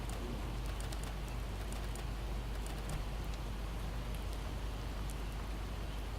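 Rain falls steadily in the video game Project Zomboid, a soft, continuous hiss with scattered faint drop ticks, heard at low volume and uninterrupted throughout.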